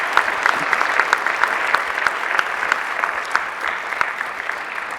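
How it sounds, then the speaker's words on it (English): Steady applause from a conference audience, dense clapping sustained throughout at an even level, with no voices standing out. "if everyone could give him a round of applause, I'd appreciate it"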